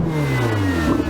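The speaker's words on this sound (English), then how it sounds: "You can hear this very full-bodied strive from the titanium exhaust." A Ferrari 488 GTB revs through its titanium exhaust, a loud, full-bodied engine note whose pitch sweeps steadily downward and then climbs again near the end, close by and with no one talking.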